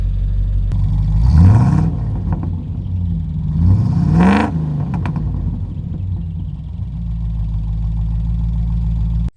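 A classic Range Rover engine, cold and freshly fitted with new spark plugs and leads, idles with a close, steady rumble and is revved twice in quick rising surges.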